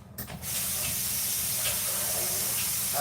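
Tap water running steadily into a kitchen sink while something is rinsed during salmon preparation, a close hissing splash that starts after a brief knock and continues to the end, with no talking.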